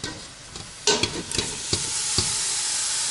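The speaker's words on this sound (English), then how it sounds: "We are going to dump all of this beef into this pot and start browning it" Ground beef for chili browning in a pot, with a steady sizzle building after a sharp start and several stirring scrapes and clinks near the mic, no talking.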